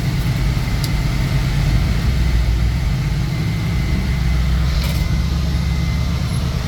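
A 1971 Chevrolet C10 pickup with a fuel-injected big block engine drives along, its deep, loud engine rumble steady from inside the cab and swelling slightly partway through.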